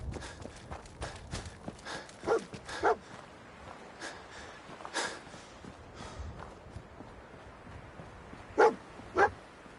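Dogmeat, the dog companion in the Fallout 4 video game, lets out a few sharp barks amid moving footsteps and game ambience, with two louder barks standing out near the end.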